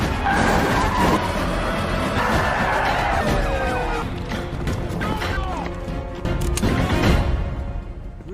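A taxi tears through city streets in a film car chase, tyres screeching in long skids under loud engine roar and thuds, with orchestral score and bursts of voices throughout.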